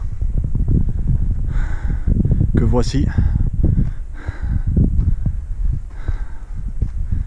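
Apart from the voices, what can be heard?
wind noise on microphone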